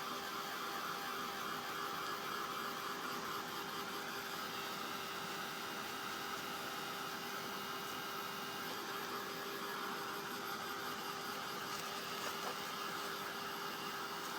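A handheld heat or hair dryer blowing on a napkin-decoupage craft project, a steady loud broadband whoosh held without a break for the whole stretch, close to the listener, with no talking over it.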